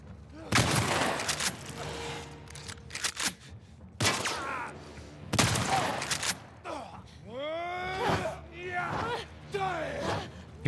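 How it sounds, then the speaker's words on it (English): Shotgun blasts in The Last of Us Part II, several loud, sharp booms spaced a second or two apart amid game effects, infected growls and shrieks, with a voice talking over the action. "We can use the shotgun to get these headshot kills."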